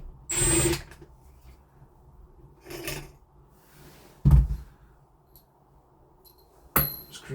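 A power screwdriver backs screws out of a door handle during a Yale Conexis L2 smart lock install. It gives several short separate bursts with quiet gaps and a few light clicks and clatters in between, close by and without talk.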